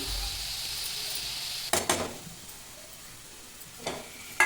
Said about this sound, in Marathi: आता कढईमध्ये मी कांदा टमॅटो आलं लसूण कोथिंबीर सर्व एकत्रच भाजणार आहे